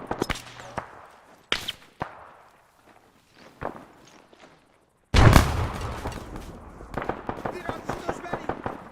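A frag grenade detonates in a doorway during an Arma 3 co-op firefight, a loud sudden blast midway followed by crackling debris and scattered sharp reports, with earlier footsteps and isolated shots beforehand.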